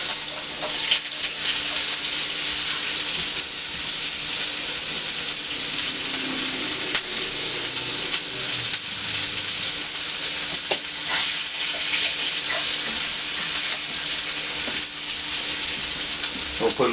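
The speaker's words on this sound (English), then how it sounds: "Let's throw the onions down in there." Onions frying on a hot griddle with bacon, a loud continuous sizzle with crackling spatters and occasional scraping stirs, close up and without talk.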